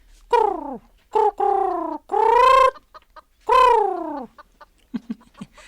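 A chicken clucks and crows in several drawn-out, rising calls, loud and close, followed by a few short soft clucks, with no voices.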